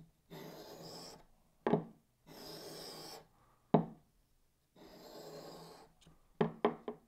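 A carving axe bevel is sharpened in single passes, each a steady rasping stroke of about a second. Three strokes are separated by pauses and punctuated by short knocks.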